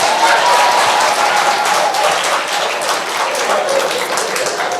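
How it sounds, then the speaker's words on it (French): Sustained applause from a crowd, steady dense clapping that holds at an even, loud level throughout. "Les femmes, vous pouvez au moins m'applaudir."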